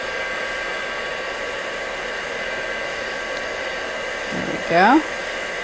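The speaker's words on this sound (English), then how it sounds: "we're going to bring our heat tool over" A heat embossing tool blows steady hot air over gilded card for crafting, a continuous whooshing hum throughout, with someone briefly speaking near the end.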